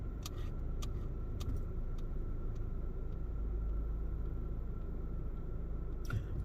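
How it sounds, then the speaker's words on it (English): A car sits idling in traffic, its engine giving a steady low rumble throughout, with a few faint clicks and ticks from inside the cabin and no talking. "Okay, I guess this car is not gonna go. This car is just sitting there"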